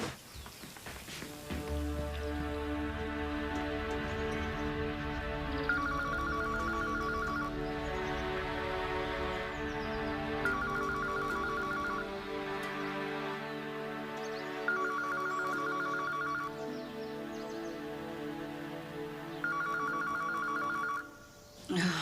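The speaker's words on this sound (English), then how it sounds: "Stop that phone from ringing." A telephone rings in four evenly spaced bursts of trilling bells over a low background drone.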